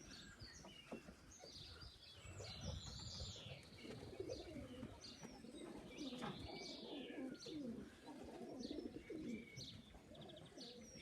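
Young pigeons near their shed, with soft cooing and chirping and occasional wing flaps as birds land, heard at a moderate distance against a quiet outdoor background.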